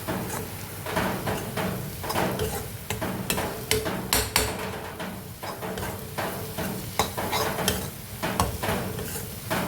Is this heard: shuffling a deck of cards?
no